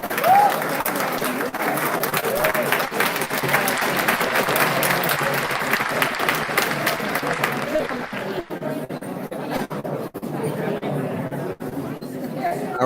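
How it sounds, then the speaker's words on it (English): Audience at a township meeting applauding three candidates, loud dense clapping that thins out toward the end, with crowd chatter and voices mixed in. "Give a round of applause for all three candidates."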